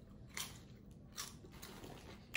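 Someone chews Cap'n Crunch's Crunch Berries popcorn, giving a few soft, close crunching bites at uneven intervals over a quiet background.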